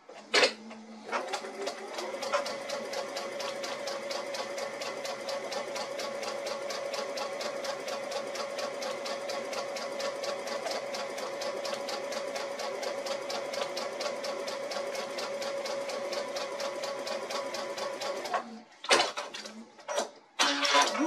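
A sewing machine runs steadily, stitching a quarter-inch seam down one side of an hourglass quilt block, a continuous close whir that stops near the end with a few handling clicks.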